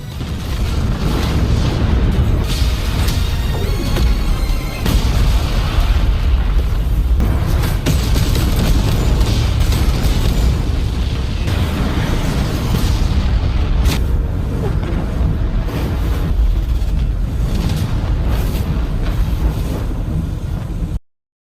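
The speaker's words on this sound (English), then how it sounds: "A powerful explosion occurred and destroyed all the planets in the vicinity, and boom." A massive, prolonged explosion roars at full volume, deep rumbling booms and crackles rolling on for about twenty seconds before cutting off abruptly, from the animated series Swallowed Star.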